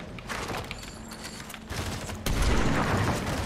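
Gunfire in a video game, a spatter of shots under a steady game soundscape that builds to a louder, denser burst of firing near the end.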